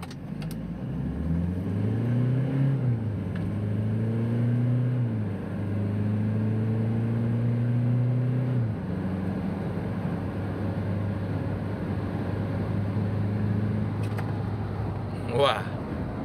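A diesel car accelerating from standstill at full throttle in power mode, fitted with a lightweight pulley; the engine note climbs steadily through several gear changes, loud and close, with no talk over it.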